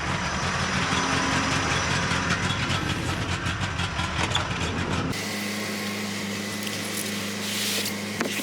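A van's engine runs with a rough, steady rumble and clatter, then drops abruptly to a smoother low idle hum partway through, heard close with no talk.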